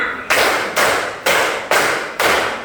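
A classroom of students performs the five-clap concentration pattern, giving five sharp, evenly spaced group claps, loud and close, with no talking in between.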